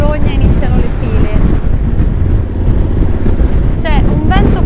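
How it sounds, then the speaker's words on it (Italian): Strong, buffeting wind while riding a motorcycle on an Italian highway near Rimini roars in a constant low rumble against the microphone, loud and close, with someone speaking over it. "C'è un vento fastidioso iniziato da zona di Rimini."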